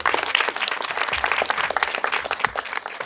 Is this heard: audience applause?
yes